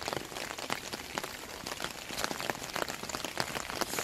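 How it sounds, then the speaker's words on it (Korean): Steady rain falls during a winter early-morning commute on a cloudy day, a dense close patter of drops on surfaces with no voices. "오늘은 비가 오네요."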